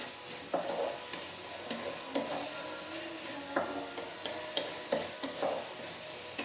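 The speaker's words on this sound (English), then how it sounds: "Fry it nicely." Mushroom chilli frying in a pan, a soft continuous sizzle punctuated by light scraping and tapping as it is stirred, fairly quiet with no voices.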